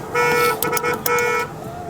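A car horn toots in two short bursts amid an outdoor theme-park crowd, with steady tonal bands and some background voices.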